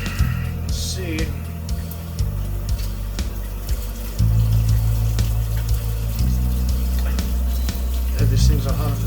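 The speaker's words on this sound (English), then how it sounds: "I'm going to wash my hands as I finish prepping for the next day" Tap water runs steadily into a kitchen sink while hands are washed during salsa prep, a continuous close splashing hiss that grows louder partway through, with a person talking over it.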